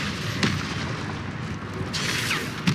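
Confringo blasting spell going off in Hogwarts Legacy: dense, continuous game combat with booming blasts and sharp impacts, loud and steady throughout, with two stronger hits near the start and end.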